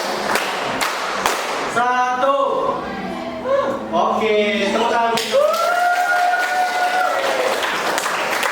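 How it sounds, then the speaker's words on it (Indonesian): A school class claps together in short rhythmic bursts, with voices chanting counts and speaking between the rounds of claps. "Tepuk dua. Tepuk dua. Tiga. Tepuk empat."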